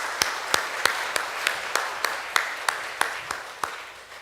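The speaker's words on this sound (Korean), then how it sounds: "우리 이분들 위해서 우리 박수하면 참 좋겠습니다." A church congregation at a Sunday service claps in steady, evenly spaced unison beats, filling the hall at moderate volume.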